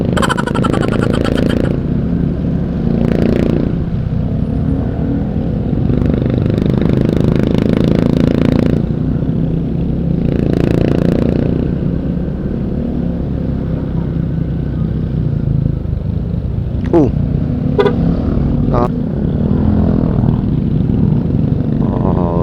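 Road traffic in Pagbilao, Quezon, with cars and motorcycles rolling past in a steady, fairly loud wash, engines revving now and then with some clatter and scraping, while people talk over it throughout.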